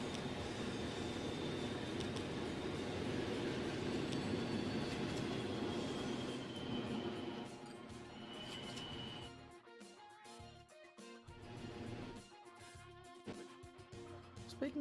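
A diesel multiple unit train rolls past at a distance. Its steady rumble and wheel noise fade partway through into rhythmic clicks and clatter over the rail joints, with a high wheel squeal now and then.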